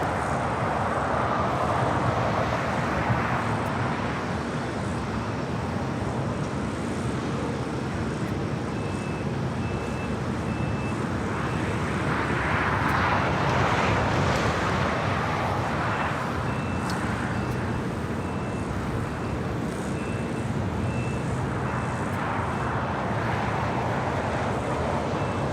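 An airliner takes off from runway 25 right at LAX, a broad, continuous jet roar that swells and fades in long waves, steady and loud with no pauses.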